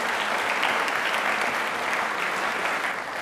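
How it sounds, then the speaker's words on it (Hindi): A studio audience at a Rajasthani television quiz show claps vigorously, a thick, even roar of applause that holds steady from start to finish. "अरे यार, तालियां इंजीनियर्स के लिए होनी चाहिए भाई"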